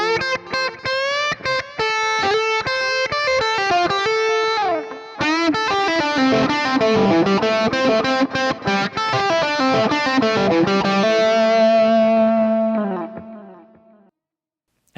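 Distorted electric guitar lead played from a Fractal preset through a pair of 1960 cabs, a busy run of sustained and bent notes that rings loud and alone before fading out at the end.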